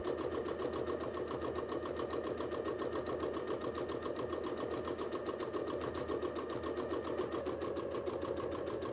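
A sewing machine runs steadily through free-motion quilting, its needle making a fast, even mechanical chatter that is close and unbroken throughout.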